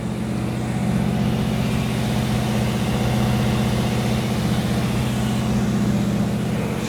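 A Chevrolet Blazer engine runs while warming up, its deep, steady rumble carrying a low throbbing pulse throughout, loud and close with no talk over it.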